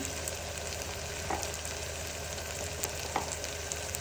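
Food frying in a pan with salt and a teaspoon of chili powder added, a steady low sizzle running throughout with a few faint scrapes, fairly quiet and close, no talking.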